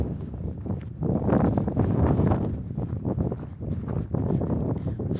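Wind gusts on an exposed mountain climb near a ridge, buffeting the microphone in rough, surging blasts that rise and fall over a few seconds without letting up.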